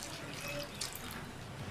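About 100 ml of water splashing steadily into a pot of ground spices and salt for a drumstick (murungakkai) recipe, with a continuous soft rushing pour and no voices.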